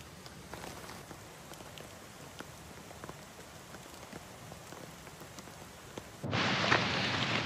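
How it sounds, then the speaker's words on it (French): Steady rain patters on a surface in autumn woods throughout, with scattered drops, swelling into a louder, denser downpour near the end. "Bon, la pluie s'est calmée."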